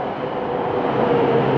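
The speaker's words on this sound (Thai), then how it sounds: "รถไฟมาแล้ว" A steady low rumble builds slightly over a brief moment as an electric train rolls in close by.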